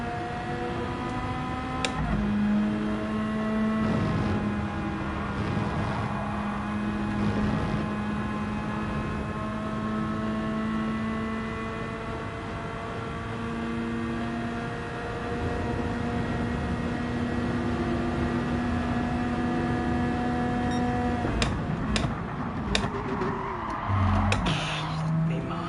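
A Porsche race car in Gran Turismo 7 at Spa drones steadily at high revs, its engine tone held and shifting between gears over a long stretch, with a few short clicks near the end.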